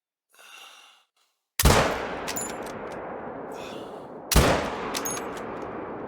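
Two sharp, loud hunting rifle shots in theHunter: Call of the Wild, each a sudden crack followed by a long rolling echo, a few seconds apart, preceded by a soft breath.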